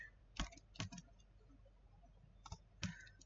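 A handful of sparse keystrokes on a computer keyboard, heard as two small clusters of sharp, close clicks with a quiet gap between them, in an otherwise still room with no talking.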